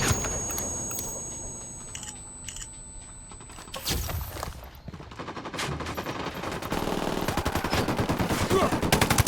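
Bursts of automatic gunfire in the Ghost Recon Wildlands video game, starting with short shots and building to sustained rapid fire that grows louder and denser toward the end.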